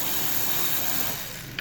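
A socket wrench with a 7mm socket loosens a hose clamp during removal of the intake manifold on a 2.0 TSI engine, giving a steady close-up mechanical ratcheting whir that runs without pause for over a second and ends in a brief click.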